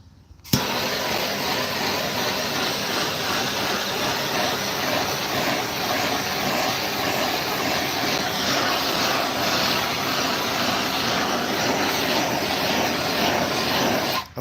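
A heat gun blows on a musky fishing lure during painting, a loud, steady rushing whoosh that starts abruptly and runs unbroken for about fourteen seconds before cutting off, close by with no talk.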